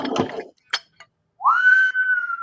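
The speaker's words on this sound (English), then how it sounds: "I'm bringing the whistle back." A whistle blown once in a long, steady tone of about a second, following a brief burst of indistinct voice and a couple of short clicks, fairly loud and close.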